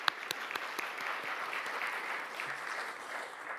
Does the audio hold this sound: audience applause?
yes